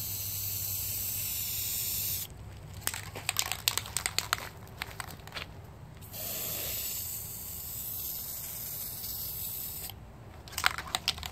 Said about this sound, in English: I'll give two coats on top like this of the light spray